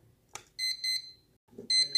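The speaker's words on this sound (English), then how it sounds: "Turn on the alarm." An alarm clock sounds its alarm in short bursts of bright, high beeping, two quick pulses, a brief pause, then the beeping resumes, with small clicks of handling between.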